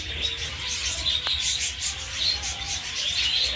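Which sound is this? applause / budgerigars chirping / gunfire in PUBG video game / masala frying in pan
budgerigars chirping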